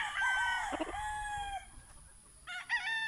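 A yellow-legged gamefowl rooster at a Bohol game farm crows close by in a loud, drawn-out call, then a second crow begins after a short pause.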